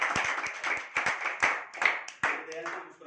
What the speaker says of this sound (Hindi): दीनदयाल जी के लिए एक बार जोरदार तालियां।